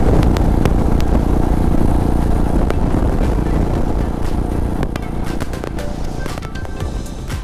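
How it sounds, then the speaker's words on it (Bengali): A motorcycle rides along a road on a long-distance bike trip, its engine droning loud and continuous with steady wind roar, close to the rider and without talk. "ওখানে ফেলুদা উঠে করে ট্রেন তাড়া করেছিল আর আমরা বাইকে করে মোটর সাইকেলে করে ট্রেন তাড়া করছি কিন্তু পাচ্ছি না ট্রেনটা চলেই গেল"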